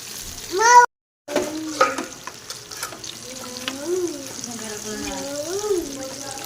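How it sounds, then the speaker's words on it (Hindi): Chicken popcorn pieces fry gently in oil over low heat, giving a steady soft sizzle that runs under a voice, with a brief dropout near the start. "तो इसी तरह हमने इसे फ्राई करना है"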